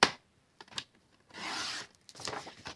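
Paper cut to size in a paper trimmer, a few short scraping slides of the blade with soft taps between, close and quiet, with no voices.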